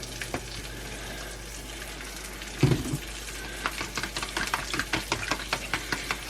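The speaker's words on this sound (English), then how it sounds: "and then just mix your mixture" Egg and milk mixture for French toast being whisked or stirred in a bowl, a quiet scraping swish that picks up into a run of steady clicking strokes after a brief knock near the middle.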